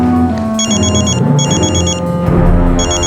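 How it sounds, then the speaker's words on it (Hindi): A telephone rings in short repeated double bursts over a busy background of dramatic music and room noise, loud and close. "हॉस्पिटल से फोन आया था"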